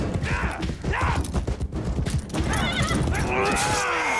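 A horse in a Game of Thrones battle scene neighs loudly amid clattering hooves and the clash of fighting, with shouting voices mixed in.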